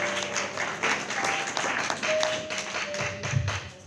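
A church congregation claps together in praise of the Lord, a sustained, fairly loud round of applause with sharp individual claps standing out and faint sustained musical tones underneath.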